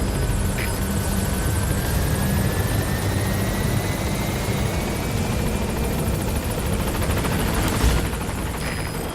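Helicopter rotor noise from the B-Quad support chopper arriving at a landing zone in Metal Gear Solid V, a steady, loud, continuous drone that holds throughout with no speech.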